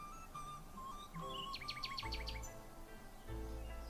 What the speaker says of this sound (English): Then the Nightingale began to sing.